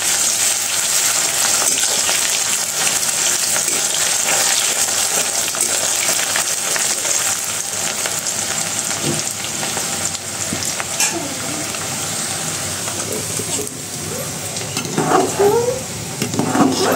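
Potato slices fry in a pan in a home kitchen, giving a continuous close sizzle and crackle. Stirring scrapes and small clinks come through near the end.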